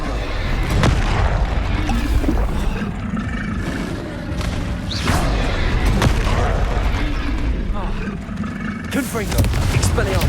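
Spells like Confringo and Incendio fire in Hogwarts Legacy combat, producing repeated heavy booms and fiery bursts every second or two, with voices mixed in among the blasts.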